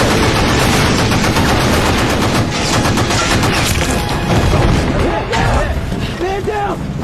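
Dense, continuous gunfire rakes a coastline in a naval battle scene, rapid machine-gun bursts and shots layered over a constant roar, with shouted voices breaking through near the end.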